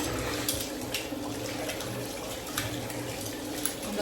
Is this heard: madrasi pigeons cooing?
no